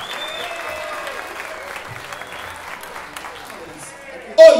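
A crowd at a live salsa orchestra concert claps at a steady, moderate level beneath sustained music tones, then a louder, sharper burst of noise comes in just before the end.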